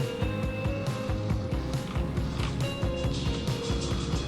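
A skateboard grinds along a rail in a mobile skating video game, a continuous rolling rattle with rhythmic clicks and mechanical clatter layered over game audio.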